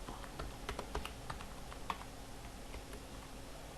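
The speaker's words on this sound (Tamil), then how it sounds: "இப்போ தமிழ்நாடுன்னு டைப் பண்ணுறேன்." Quick, irregular keystrokes clatter softly and steadily on a computer keyboard while text is typed into Photoshop. Nobody speaks.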